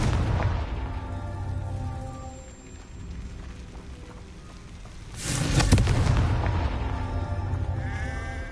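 A Confringo explosion spell in a Harry Potter video game bursts with a loud booming blast midway, preceded by rumbling game effects and followed by lingering crackle.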